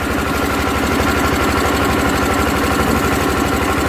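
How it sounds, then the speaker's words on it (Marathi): An ice crushing machine runs steadily at a fishing harbour, a loud, even mechanical drone with a rapid pulsing throb and rattling vibration, no voices over it. "ही मशीन आहे बर्फ बारीक करायची"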